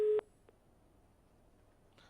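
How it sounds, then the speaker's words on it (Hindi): A telephone line gives a short busy-signal tone right after a call drops, then near silence with a faint click and a soft later blip. "लगता है फोन डिस्कनेक्ट हो गया है"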